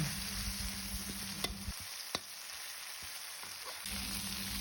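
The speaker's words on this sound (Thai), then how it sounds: "เริ่มต้นใส่น้ำมันพืชลงไป แล้วนำเครื่องแกงที่เราเตรียมไว้ มาผัดกับน้ำมันให้หอมค่ะ" Curry paste stir-frying in hot vegetable oil for a Thai curry stir-fry, a steady close sizzle with stirring scrapes and a few sharp utensil clicks, the frying dropping away briefly in the middle before resuming.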